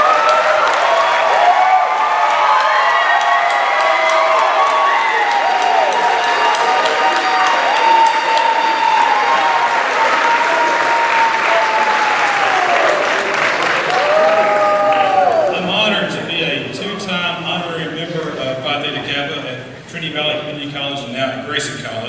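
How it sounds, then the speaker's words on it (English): An audience applauds a group of college advisors who have stood up, steady sustained clapping filling the room for about fifteen seconds, then thinning out as a voice begins talking over the fading claps. "let's give you a round of applause"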